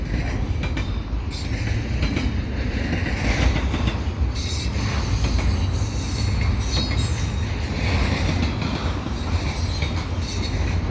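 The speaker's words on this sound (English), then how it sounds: "here we got some more double stacks here at the Dorval ramps" A CN intermodal double-stack freight train rolls past the Dorval ramps in Montreal, loud and close, with a steady rumble of wagons, rhythmic wheel clatter and repeated high metallic wheel squeals.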